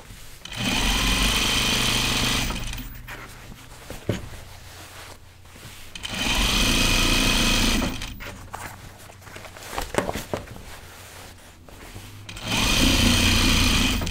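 A sewing machine stitches a denim jeans seam in three long, steady runs of rapid mechanical whirring, separated by quieter pauses with small handling clatter.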